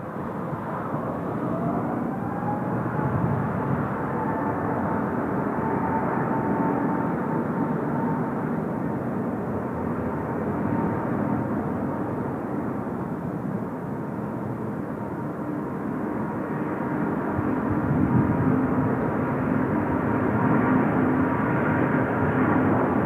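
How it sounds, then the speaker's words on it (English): A Lufthansa airliner on the Frankfurt service takes off from Incheon Airport with a steady, broad jet roar that holds throughout and swells slightly near the end, no talking. "Lufthansa 13 clear for takeoff."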